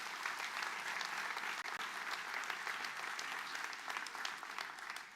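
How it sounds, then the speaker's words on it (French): Sustained applause from an audience at a town New Year's greetings ceremony in Pontault-Combault, dense steady clapping throughout with a brief dip midway. "je voudrais qu'on les applaudisse pour les remercier de leur investissement"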